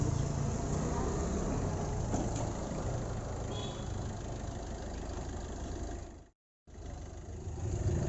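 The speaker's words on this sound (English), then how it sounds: "It is an engine sound of the vehicle." Maruti Swift Dzire ZXi car engine idling steadily at close range, a dense continuous low rumble that drops out for a brief moment near the end before resuming.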